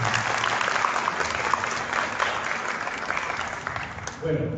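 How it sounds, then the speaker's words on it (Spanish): Steady audience applause at a book launch welcoming two writers: dense, sustained clapping from a sizeable crowd, even in level throughout, with a few louder claps near the end and no clear talk. "Recibámoslos con un aplauso."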